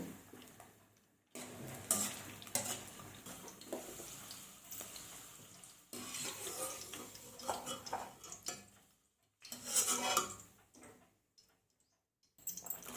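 Carrot pieces for a vegetable biryani being roasted and stirred in a pan, with repeated soft scraping and clinking of a utensil against the pan in bursts separated by short pauses.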